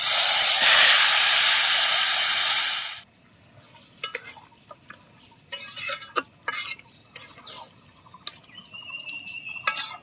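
Bay leaf, cumin, chopped onion and chicken hit hot oil in a village kitchen pan with a loud, bright sizzle for about three seconds, then it drops to quiet, broken by scattered scrapes and clinks of stirring.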